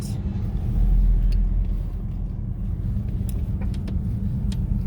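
A car drives through the streets of Cotonou, Benin, with a steady low engine rumble and road noise throughout, plus a few faint clicks and ticks from the cabin.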